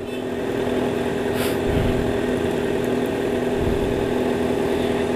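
A Kawasaki ZX6 motorcycle with a loud aftermarket exhaust runs steadily and close by, its engine droning continuously through the clip with slight swells in level and no talk.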